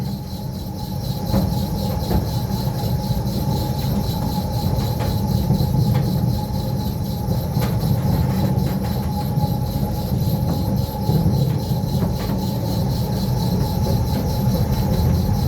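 A red battery-electric Mail Rail locomotive pulls its small train through the tunnels around Mount Pleasant with a steady running rumble, faint wheel clicks and high whines on top. The sound is continuous and fairly close, and no one speaks.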